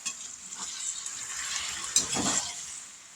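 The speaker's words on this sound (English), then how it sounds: "We're going to give them a stir." Seasoned fried potatoes sizzle steadily in a pan while a utensil stirs and scrapes through them, with a louder scrape about two-thirds through, close and without talk.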